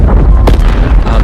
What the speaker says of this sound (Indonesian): Ledakan besar terdengar sampai sore tanggal 11 April itu.